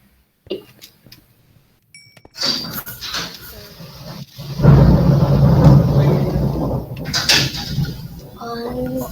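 Thunderstorm in the Minecraft video game: a low, rolling rumble of thunder swells and persists through the latter half, with steady storm noise continuing beneath players' voices.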